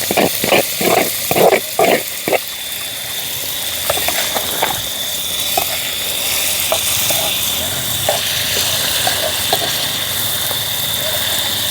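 Ackee goes into a sizzling pan for Jamaican curry ackee, giving loud bursts of frying and stirring at first, then settling into a continuous close sizzle with occasional soft pops and a low steady hum underneath.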